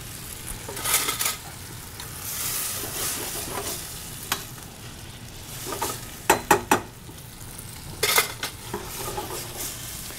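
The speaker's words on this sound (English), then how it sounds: "We're gonna let these mushrooms just cook away." Mushrooms sizzle as they cook in a pan, a steady close frying hiss broken by scraping stirs and sharp clinks of a utensil against the pan, with no talking.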